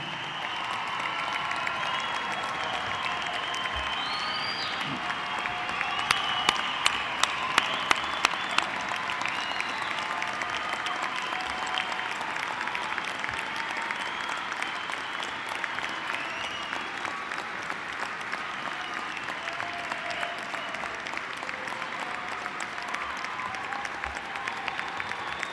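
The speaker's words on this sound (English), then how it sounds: "Please stand and receive our applause." A large crowd gives sustained applause for new graduates at Monmouth University's 2013 winter commencement. The dense, steady clapping carries on for a long stretch with a few louder claps near the start and light crowd noise underneath.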